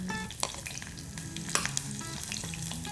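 Onions sizzle in hot oil in a small pressure cooker while making tomato rice, a steady close crackle broken by a few clinks of stirring, with no talking.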